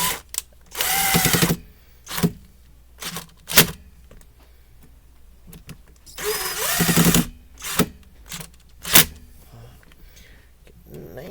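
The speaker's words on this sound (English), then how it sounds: "we're going to go ahead and retighten the screws" A power driver whirs in short bursts, retightening screws on a Mainstays SFC-225BR1 9-inch high-velocity fan motor, with two longer runs and several brief close spurts separated by pauses.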